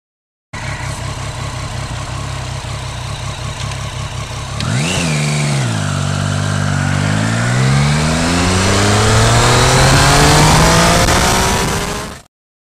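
A Triumph Street Triple RX motorcycle accelerates hard and close, revving up through the gears with a sharp pitch drop at a shift, then a long rising engine whine before cutting off.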